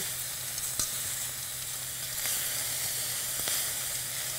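Stir-fry vegetables sizzle in oil in a pan, giving a steady, moderate hiss with a few sharp clicks of utensil contact and no talk.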